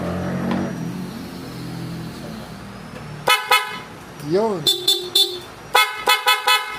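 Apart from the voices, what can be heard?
Bosch Europa horn on a KYMCO AK550 scooter honking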